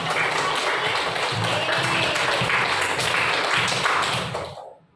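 Children in a Balinese-language primary classroom give their teacher sustained applause, a dense, even patter of many hands that fades out at the end.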